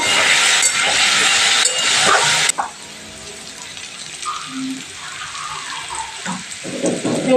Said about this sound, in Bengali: এবার আমি আলুটাকে অনেকক্ষণ ধরে ভালো করে ভেজে নিলাম তো আমি দেখো আমি আলুটাকে একটু লাল লাল করে ভেজে নেব